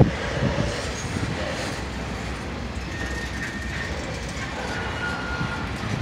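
A BNSF freight train rumbles past nearby in Irondale as it slows, a steady low heavy roar with faint rail clatter throughout, no clear talk.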